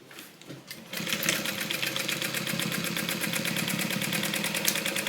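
A sewing machine runs steadily, stitching together a zippered pouch, its fast even needle chatter starting after a brief pause and continuing loud and close without talk.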